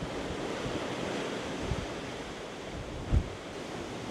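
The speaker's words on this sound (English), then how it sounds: "Oh, it's pouring. And we're in it. Yep, in the rain." Heavy rain pours at sea around a Carnival Magic cruise ship, heard as a steady, dense wash of hiss mixed with wind buffeting, with one brief low thump near the end.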